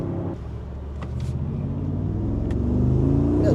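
A 2023 Mercedes G63 engine revs and accelerates from inside the cabin, a loud steady rumble that climbs in pitch with no talk over it.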